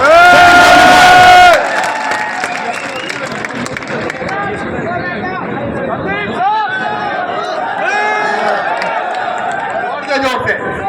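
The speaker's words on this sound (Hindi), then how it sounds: "जोरदार तालियों के साथ संदीप चौधरी साहब।" A crowd at a Jaipur meetup erupts in a loud burst of cheering, then keeps up energetic shouting, chanting and excited chatter throughout.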